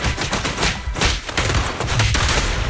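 Sustained gunfire from the video game Zenless Zone Zero, a dense, continuous fusillade of rapid shots that stays loud and steady throughout, with no talking over it.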